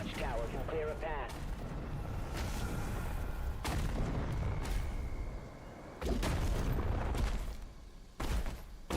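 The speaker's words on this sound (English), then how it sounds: "The cannons in the watchtower can clear a path." Heavy booms of watchtower cannon fire in the video game Doom: The Dark Ages, several loud blasts spread across a noisy, rumbling battle mix, with someone talking between them.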